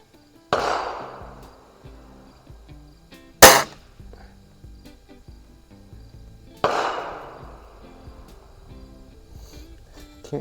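Crosman Optimus break barrel spring air rifle firing at a range: three separate sharp shots several seconds apart, each a crisp snap with a short decaying ring, quiet between.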